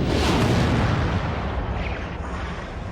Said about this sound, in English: there was the mother of all explosions, the Big Bang.